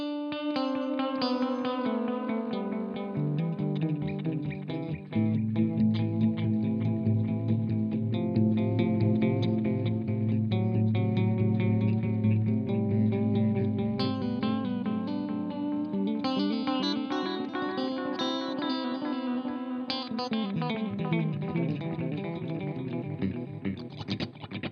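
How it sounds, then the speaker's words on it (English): Sustained guitar chords and melodic lines through a Carl Martin Red Repeat delay pedal wash into thick, repeating tape-style echoes, warm and spacious, with the repeats smearing into a dense tail. "Very space echoey, very classic,"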